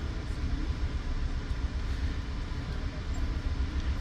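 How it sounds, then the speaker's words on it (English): A Metro commuter train led by two locomotives, one an F40PH, rumbles past close by with a steady low roar and rolling wheel noise that stays loud throughout. "And there's a Metro train going past us right now."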